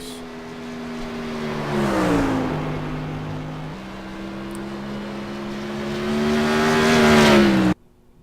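A sprint car engine runs through a lap, droning steadily at partial throttle with its pitch dipping and climbing, then swelling louder near full throttle before cutting off abruptly at the end.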